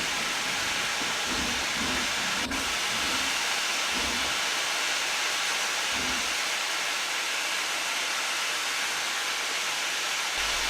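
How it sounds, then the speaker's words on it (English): A steam locomotive in the Trainz game vents excess pressure: a steady broadband hiss, continuous and fairly loud, with a few low rumbling thumps early on before it settles into an even rush. "The steam pressure got too high and I had to let it off"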